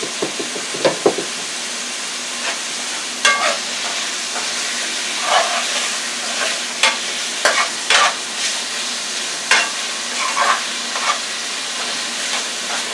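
Garlic steak sizzling in an oiled frying pan, a steady frying hiss broken by sharp spatters, scrapes and light knocks of stirring throughout, with no talking.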